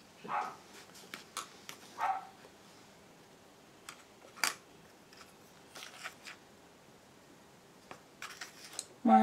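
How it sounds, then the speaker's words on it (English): A 13-year-old dog gives scattered short barks and yips at irregular intervals, moderately close, separated by quiet gaps, with a louder burst at the end. "My 13-year-old dog does this every single night, without fail."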